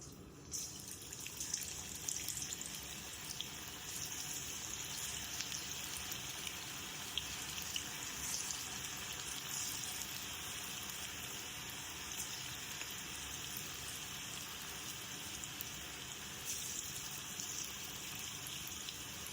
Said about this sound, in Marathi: तेल गरम झाला मस्त. आता आपण ना भजी सोडूया.